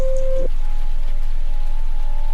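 Steady rain falls in a continuous, even hiss, with a brief tonal hum at the start before the rain carries on alone.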